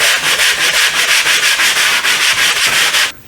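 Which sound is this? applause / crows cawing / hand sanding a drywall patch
hand sanding a drywall patch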